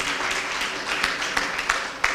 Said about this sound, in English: so he deserves better applause